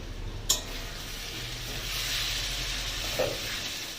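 Green chillies tossed into fish frying in a pan for a Bengali fish curry, giving a continuous sizzle, with a sharp clink at the start and another light knock later.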